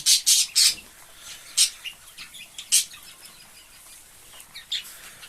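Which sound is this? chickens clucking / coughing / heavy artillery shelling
chickens clucking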